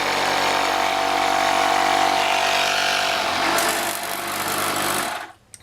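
A small portable air compressor inflates a car tire after a roadside plug repair, a loud steady mechanical rattle running continuously for several seconds before cutting off abruptly near the end.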